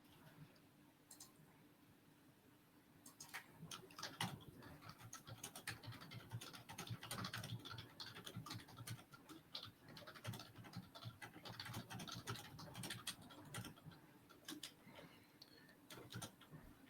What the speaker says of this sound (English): I'm typing a message that says that we're going live if anyone wants to come say hello.